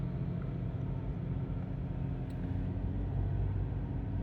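A BMW 530d diesel engine with a freshly cleaned particulate filter holds a steady rev around 3000 RPM, a constant low droning rumble heard up close.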